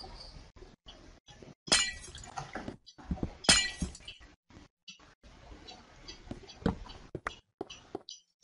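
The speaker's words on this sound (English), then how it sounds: "So I break the glass." Glass blocks being broken in Minecraft, several short crisp shattering bursts spread across a quiet stretch of clicks and footsteps.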